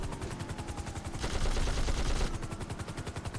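Rapid machine gun fire from a helicopter-mounted gun in GTA 5, a steady close burst of rattling shots that swells louder in the middle, with no talking.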